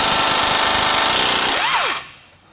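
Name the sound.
wrench loosening top bolts on Toyota Tundra lift install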